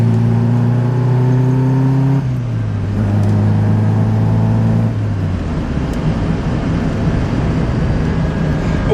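An old Alfa Romeo runs along a back road, its engine droning loudly and steadily with shifting tones as it changes pitch mid-drive, tire and road rumble underneath, no voices.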